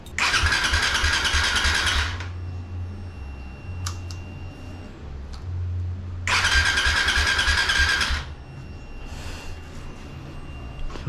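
A Suzuki Raider 150 Fi motorcycle engine, just after a throttle body cleaning, cranking and catching twice with loud bursts of revving, each settling back to a steady low idle rumble.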